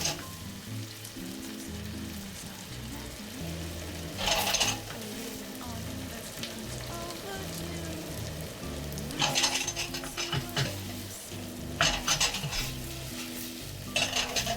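Potatoes fry in a pan over high heat for pommes noisettes, a steady sizzle running throughout, with several louder bursts of scraping and clattering from stirring, no voices.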